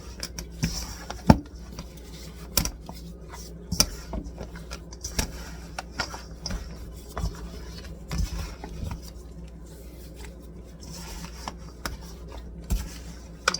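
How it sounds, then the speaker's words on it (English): Coconut caramel pecan bar dough being stirred in a bowl, soft scraping and rubbing strokes in an irregular rhythm, close and fairly quiet with no talk. "Give this a mix."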